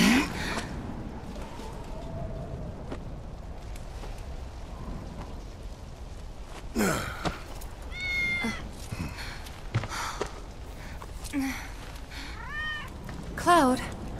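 A cat in Final Fantasy VII Remake gives several short meows in the second half, set against a steady rain-like wash, with spoken dialogue in the scene.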